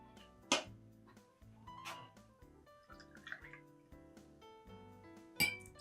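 Vodka glugs into a drinking glass while a Black Russian cocktail is built, a soft gurgling pour with a few light glassy clinks at start and end.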